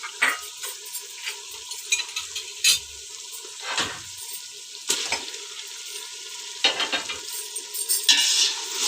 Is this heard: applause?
no